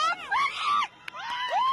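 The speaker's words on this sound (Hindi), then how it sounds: "चीख पुकार सुनिए।" Several people scream and wail in rising and falling cries during street unrest in Iran, loud and close, with a brief break in the middle before the screaming resumes.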